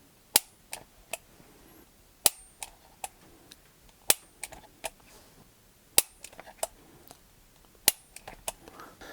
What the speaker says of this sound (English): we're going to go ahead and do a few trigger pulls on this thing with the Wheeler Professional Digital Trigger Pull Gauge